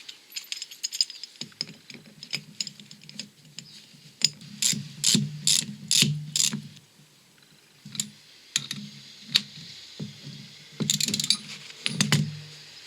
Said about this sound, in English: Use a jawed extractor to remove the bush.